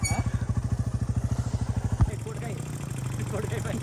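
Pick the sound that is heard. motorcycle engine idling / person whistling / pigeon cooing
motorcycle engine idling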